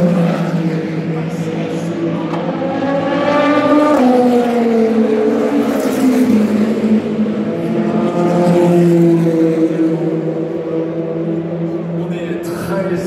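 A Ferrari race car, number 83, at the 2025 24 Hours of Le Mans: a loud engine roar with rising and falling pitch as it revs and passes, heard under continuous commentary.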